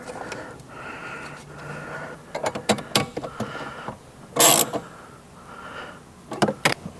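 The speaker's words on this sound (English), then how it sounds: "let's go ahead and reinstall this 10 millimeter in there." Ratchet tightening a 10 mm bolt into a Mazda dashboard, quick bursts of clicking ratchet strokes in several short runs between softer handling noises, close up with no talking.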